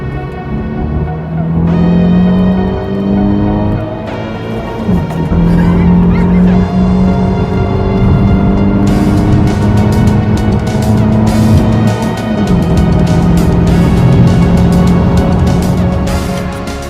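A BMW 120i M Sport accelerates hard through its gears in a performance run, the loud engine note rising in pitch, dropping at each upshift and climbing again, with cabin and road noise underneath.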